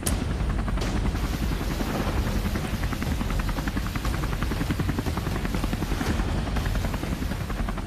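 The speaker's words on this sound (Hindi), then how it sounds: "ये है अमेरिका का AH-1Z वाइपर अटैक हेलीकॉप्टर।" An AH-1Z Viper attack helicopter's rotor thumps steadily and loudly, a dense rapid chop with engine roar, continuous and close throughout.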